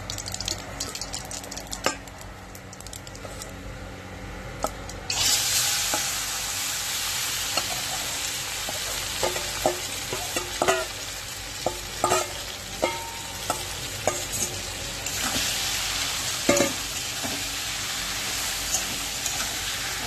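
Small mourala fish hit hot oil seasoned with bay leaves, a dried chili and whole cumin. A loud hiss bursts in after a quiet start and keeps up steadily, with spatter pops and scraping stir strokes running throughout.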